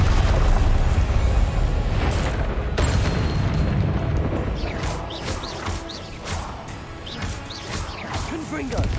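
Confringo blasting-spell explosions in the Hogwarts Legacy video game, heavy booms and bursts loudest at the start, then rumbling on with scattered crackling hits beneath game sounds.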